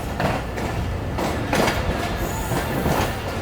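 Karachi Express passenger train rolling slowly through Kotri Junction railway station, a steady loud rumble of wheels with rhythmic clickety-clack over rail joints and faint wheel squeal, no talking.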